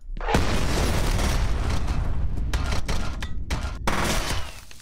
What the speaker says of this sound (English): that was the best grenade toss I've ever had.